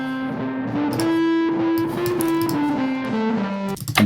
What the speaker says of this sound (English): so I've got the fuzz tape echo here